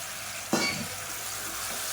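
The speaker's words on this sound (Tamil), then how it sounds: "இதை சேர்த்துட்டு நல்லா வதக்கி விட்டுக்கலாம்" Green broad beans, brinjal and potato are added to hot oil with onion and garlic, setting off a short burst of sizzling and stirring that settles into a soft, steady fry.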